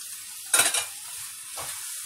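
Broccoli, mushrooms and egg white get a quick stir in a hot pan with bacon, two short scraping bursts over a soft background sizzle.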